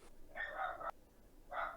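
A dog gives two short, faint barks, spaced apart and heard from a distance.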